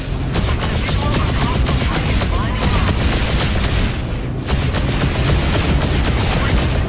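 Spaceship weapons and missiles in the Freelancer space combat game, a dense, continuous barrage of loud booming blasts and rapid fire. The firing runs the whole time with little break, and the only pause comes partway through.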